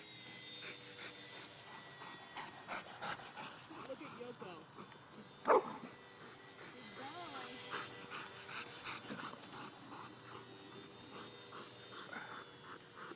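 Dogs bark and yip while chasing a small Champ model airplane outdoors, short barks scattered throughout, one sharp loud yelp near the middle, over a steady background hum, with a person talking intermittently.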